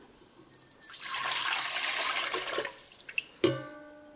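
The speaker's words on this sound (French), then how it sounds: "Vous allez déjà commencer par mettre les 650 g d'eau dans la cuve." Water poured into the steel bowl of a dough mixer for French tradition baguettes, a steady rushing stream lasting a few seconds that tapers off, followed by a sharp clink near the end.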